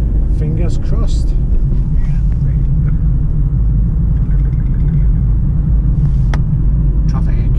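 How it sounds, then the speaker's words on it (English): Steady low road traffic rumble from a car, continuous and fairly loud throughout, with brief voices heard faintly over it. "Traffic."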